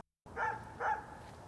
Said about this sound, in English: That damn dog's been barking for fucking ever.